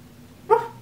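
A hypnotized person imitating a dog with a single short, sharp bark, close and loud after a brief quiet pause.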